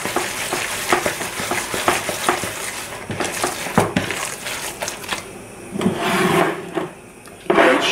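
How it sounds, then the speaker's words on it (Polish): Hands knead a minced pork shoulder mixture for homemade jarred cold cuts, making close, continuous wet squelching and slapping with scattered clicks and brief pauses, no voices. "Dokładnie wyrabiamy. Bardzo dokładnie."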